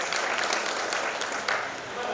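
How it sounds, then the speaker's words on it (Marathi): An audience at a seminar on AI technology, hosted by a bank, breaks into a burst of clapping that swells and then tapers off, with a voice faintly present beneath the applause. "एकदा सुंदर जोरदार टाळ्या देऊयात"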